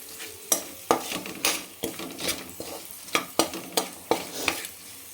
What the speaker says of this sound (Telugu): 3 minutes లో ఫ్లేమ్లో పెట్టుకొని వేయించుకోండి ఈ పౌడర్ని